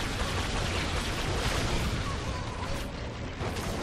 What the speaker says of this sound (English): Explodey kobolds.